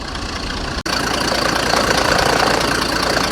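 A 160-horsepower engine spinning an ice carousel on a frozen lake in northern Maine, running steadily with a loud, continuous mid-range drone and a brief dropout early on.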